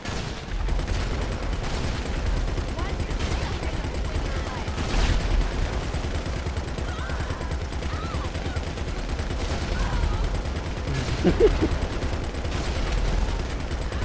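Gunfire in GTA Online, repeated bursts of automatic shots crackling at moderate loudness across the stretch, with players talking now and then between and over the volleys.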